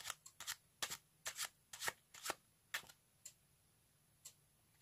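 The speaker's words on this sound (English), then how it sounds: "count how many cards he's shuffling off" Playing cards are shuffled and riffled by hand close up in a quiet room, a string of crisp, sharp flutters and snaps arriving in irregular bursts with short pauses between them, faint and without talk.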